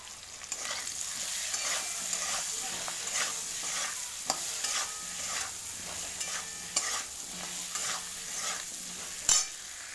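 Turmeric and slit green chilies frying in a pan for a singi fish curry, with a steady close sizzle broken by repeated stirring scrapes and clinks, and a sharp knock near the end.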